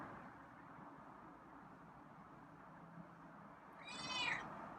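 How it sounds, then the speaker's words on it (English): A single short meow from a feral cat rises near the end over a quiet background hum. "Wow, got a meow."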